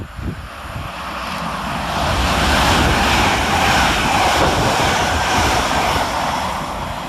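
Two British Rail Class 385 electric multiple units race through a station without stopping, a broad, steady roar that swells to a sustained loud rush and holds, with no voices.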